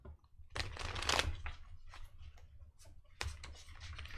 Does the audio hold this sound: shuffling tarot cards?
yes